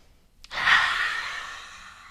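A single deep breath during a children's yoga exercise, a soft close airy exhale swelling quickly then fading slowly over a couple of seconds, with no talk.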